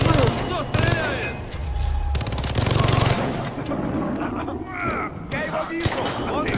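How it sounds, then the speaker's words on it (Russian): Gunfire in the shooter game Far Cry 3: bursts of automatic fire and scattered shots crackle through a busy combat mix, with a loud rattling volley near the start and more shots later, under game voices shouting. "Кто стреляет?"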